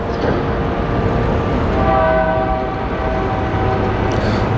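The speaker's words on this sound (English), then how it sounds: "Train whistle out here." A train whistle sounds over the rumble of a passing train near a busy airport, a sustained horn tone swelling in the middle of the clip above steady rail and wheel noise.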